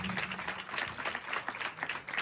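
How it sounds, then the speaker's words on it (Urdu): A church congregation clapping their hands together in steady, continuous applause, moderately distant and fairly quiet, filling the room without any words spoken over it. "ہاتھوں کی تالیوں سے بتائیں آپ کتنے خوش ہیں"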